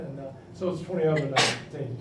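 A single sharp sneeze bursts out near the end, breaking through a man's ongoing speech at a Houston Rockets media day press conference.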